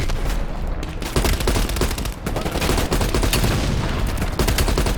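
Dense gunfire and explosions from the game Call of Duty Cold War, with rapid automatic bursts and heavy booms rolling loud and continuous across the whole stretch.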